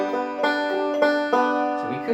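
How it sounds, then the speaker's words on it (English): Banjo picks a quick forward-reverse roll on open strings, bright plucked notes ringing in an even rolling pattern, close and solo. "if we were to play a forward reverse roll, it would sound like this."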